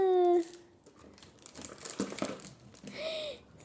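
A toy skull package is being unwrapped, with crinkling, tearing plastic rustles in short bursts after a brief electronic tone at the start, close and fairly quiet, with no speech.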